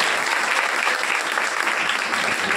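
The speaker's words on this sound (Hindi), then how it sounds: "अच्छा लगा हो तो ताली बजा दो।" A crowd claps steadily during a Ramayan recitation event, a dense, even wash of applause close by with no talk over it.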